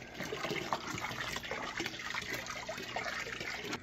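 Water sloshes and swirls steadily as it is stirred by hand in a turtle tank warmed with jugs of hot water, a continuous close liquid churning with small splashes and no talking.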